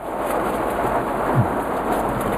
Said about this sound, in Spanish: Mientras que nos pasa la tormenta eléctrica.